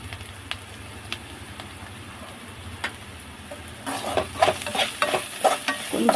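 Pieces of fish fry in hot oil for a Telangana-style fish fry, giving a steady close sizzle that grows louder and busier midway, with sharp spattering pops over a continuous hiss and no talking.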